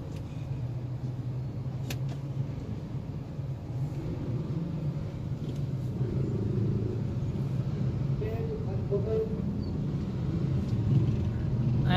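Steady street traffic of tricycles and motorcycles in a slow jam, a continuous low engine rumble with passing motors, moderately near, with faint voices mixed in.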